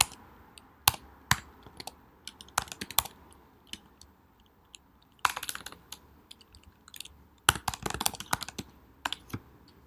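Keys clatter on a computer keyboard in irregular bursts, quick runs of taps separated by short pauses, close and fairly quiet.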